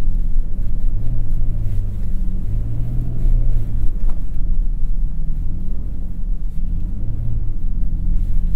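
A 2022 Toyota Tundra TRD Pro drives off-road in 4 high, its engine a steady, loud low rumble from inside the cab with faint rattles and bumps, no talk.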